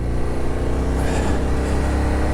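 A Husqvarna Nuda 900R motorcycle engine runs loud and close, a steady low throbbing drone with no pauses across the whole stretch.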